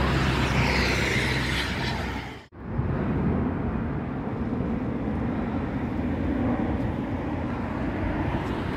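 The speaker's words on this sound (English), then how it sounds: "Plane coming to land." A passenger plane coming in to land over a street in Sharm el Sheikh, Egypt, a steady loud broadband jet roar that holds for several seconds, briefly cut by a dropout, then continues strongly with no talking.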